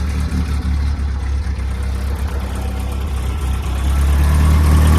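A 1964 Oldsmobile Cutlass engine idling roughly after weeks unused in cold weather, a loud, steady low rumble that swells a little toward the end, with no talking.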